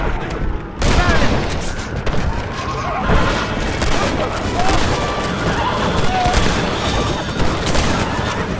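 A Red Dead Redemption shootout crackles with loud, dense volleys of gunfire and occasional booms, continuous throughout with hoofbeats and shouting voices mixed in.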